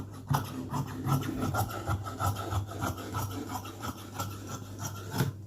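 Chudidar cloth is cut with scissors in a steady series of close, rasping snips and rubbing strokes of blades through fabric, with no talking.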